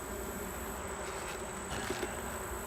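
Honey bees buzz at an open, queenless hive full of capped brood, a faint, steady insect drone with a few brief louder passes near the end.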